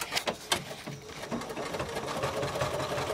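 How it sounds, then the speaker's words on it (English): A sewing machine runs a zigzag stitch joining a fabric strip rug, a steady close mechanical whir that starts with a few uneven bursts and settles into a continuous run. "Now I'm going to pop back to my zigzag stitch, and under the needle it goes again."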